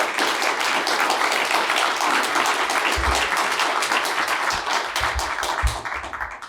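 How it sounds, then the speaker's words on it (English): An audience at a keynote fireside chat bursts into sustained applause, dense steady clapping from many hands that holds strong before tapering off at the end. "So let's give a round of applause to both of our speakers."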